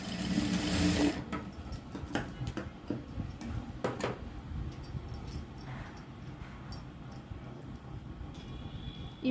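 A sewing machine stitching a blouse runs in a fast, close whir, with a loud burst at the start, then steadier stitching broken by small clicks.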